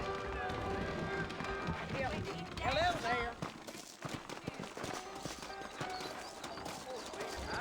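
Horse hooves clip-clop in a quick running rhythm in the western video game Red Dead Redemption, set in New Ulster, mixed with game sounds and a brief whinny, while people talk over it.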